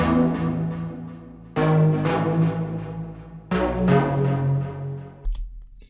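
A synth made in Serum for a track's break plays three sustained, rich chord stabs, each fading slowly before the next, loud and alone.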